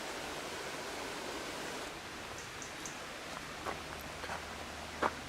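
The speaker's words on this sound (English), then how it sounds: "hear the running water from here" Steady rushing of a stream in the Cotswolds countryside near Guiting Power runs continuously at moderate distance, with a few light taps and knocks near the end.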